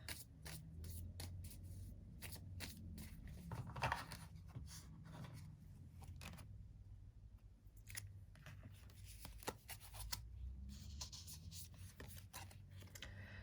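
Tarot cards are handled and drawn in a quiet room, producing soft repeated rubbing, sliding and tapping sounds at close range, with no one talking.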